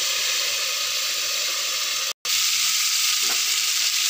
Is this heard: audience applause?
no